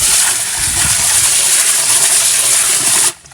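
Water gushes steadily from a garden hose into a pond in a Japanese garden, a loud continuous rushing pour that cuts off abruptly near the end.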